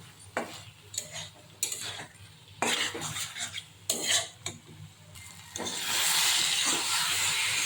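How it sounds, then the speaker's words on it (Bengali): Mustard seeds stir-fried in a pan for a mustard-poppy fish curry: intermittent scraping and clinking of a spoon against the pan over a soft hiss, building to a louder continuous sizzle near the end. "সরষাটাকে কষিয়ে নেব।"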